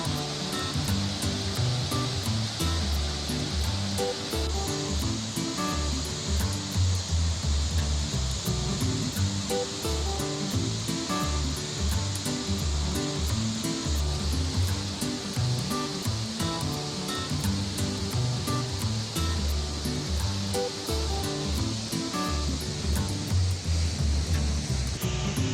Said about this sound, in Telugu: అగో మన పొచ్చర్ల జలపాతం చూడురోలా